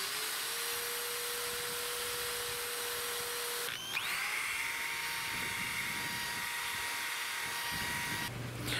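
A power tool whines steadily while smoothing the edge of a Kydex knife sheath, a continuous high-pitched motor drone that shifts pitch midway as the plastic edge is worked, close and unbroken.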